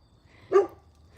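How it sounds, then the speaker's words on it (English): One short, muffled bark from a dog out in the forest, sounding a little distant over a low rumbling background. "My dogs gave me away."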